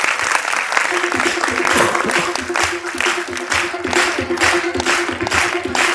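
Sustained applause from an audience at a school annual day prize-giving for students, thick continuous clapping close and loud, with a tonal music or voice line running underneath.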